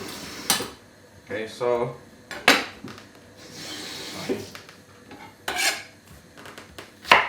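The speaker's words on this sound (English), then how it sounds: "Let's cut this bit off." A knife trimming the spoiled part off an onion on a board, heard as several sharp scraping and tapping strokes spaced irregularly, with a brief bit of talk between them.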